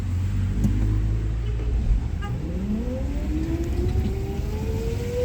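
Heavy road traffic heard from inside a vehicle driving in the rain, a continuous low rumble of engines with a slowly rising whine passing through, fairly quiet and without talk.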